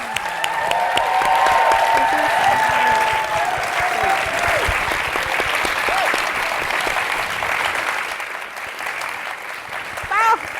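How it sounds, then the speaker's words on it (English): An audience at an author talk breaks into loud, sustained applause for a standing ovation. A voice speaks over the first moments, and the clapping stays dense and steady before thinning slightly near the end. "Let's give Sonora and Jodi-Ann one more big round of applause."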